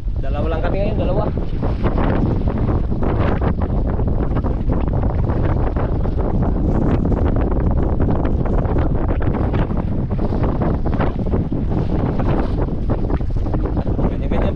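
Gusting wind buffets a microphone aboard a big fishing boat out on the water, a loud, unbroken roar lasting throughout, with faint talk partly buried underneath.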